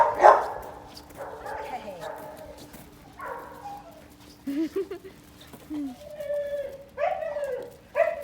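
A pit bull whines and yips in short frustrated bursts, close by, separated by quiet gaps, with a person talking briefly in between.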